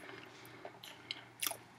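Quiet close-up chewing of fried apples with fluffy pancakes, a few soft bites and wet, faintly crunchy chews spread over a couple of seconds.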